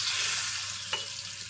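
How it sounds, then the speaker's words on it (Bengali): Pointed gourd (potol) fries in a pan with a steady close sizzle, broken once by a short utensil tap. "পটলটা ভাজা হয়ে গেছে, নামাতে হবে।"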